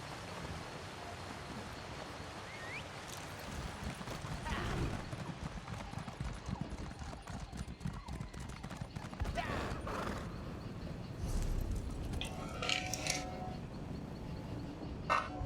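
Horse hooves clip-clop steadily in the Elder Scrolls Online video game, a continuous trotting rhythm mixed with game ambience and occasional talk over it.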